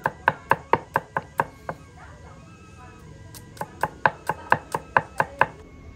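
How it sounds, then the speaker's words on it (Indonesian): Chilies and shallots sliced with a knife on a cutting board, a close run of sharp rhythmic chops, then a short pause, then another fast even burst of chopping. "Lalu kita iris cabenya, bawangnya diiris"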